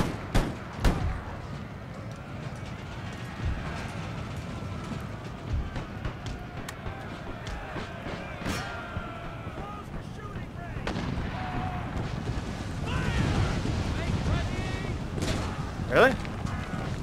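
Musket volleys and artillery booms from the Empire: Total War battle game, with the Darthmod mod, crack out over a dense rumbling battlefield din, one loud burst standing out near the end.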